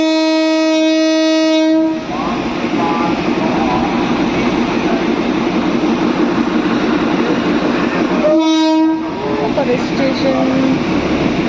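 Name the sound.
Darjeeling toy train running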